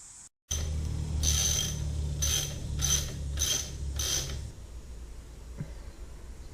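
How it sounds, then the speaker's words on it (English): A ratchet wrench clicks through about five short bursts while loosening alternator bolts on a Mercruiser 3.0 marine engine, close and fairly clear over a low background hum, followed by a quieter pause and a faint knock. "You loosen this one up, so then you can shift it over, get this belt off."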